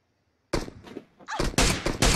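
Rapid bursts of gunfire from the mobile battle royale game PUBG Mobile, loud and close, starting abruptly after a brief silence and continuing in dense repeated volleys.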